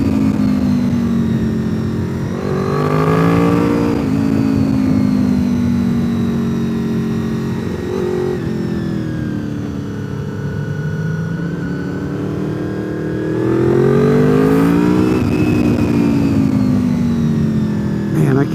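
A motorcycle ridden hard along the Deals Gap road while passing cars: the engine's drone swells and drops through repeated loud revs, close and continuous, with wind rush underneath.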